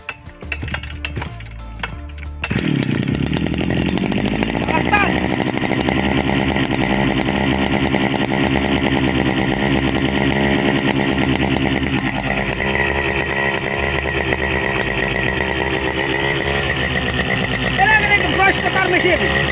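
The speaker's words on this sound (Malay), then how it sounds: "brush cutter machine" Brush cutter engine starting after a few pulls, then running at a loud steady roar with rising and falling revs, close by, unbroken for many seconds.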